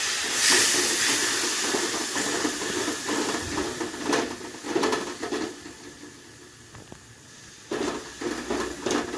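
Spice paste frying with a splash of water for a pointed gourd korma, a steady loud steamy hiss and sizzle with intermittent crackling pops throughout, no voice heard.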